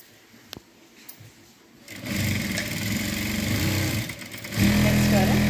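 Sewing machine stitching a blouse, starting with a few faint clicks and then running in a steady loud whir that speeds up near the end, heard close with a voice faintly under it.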